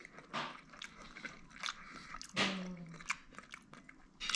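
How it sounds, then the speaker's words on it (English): Someone eating a seafood boil with rice, producing close, irregular bites, crunches and wet chewing sounds with small smacks, including one sharper crunch midway. "now we're gonna be tasting the seafood boil with the rice"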